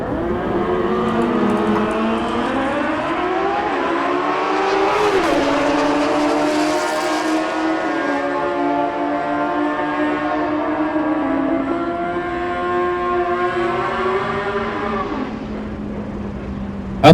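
A 2015 Kawasaki ZX14R motorcycle at a drag racing final screams loud and near, its engine pitch climbing in rising sweeps through gear changes and then holding a high, steady whine.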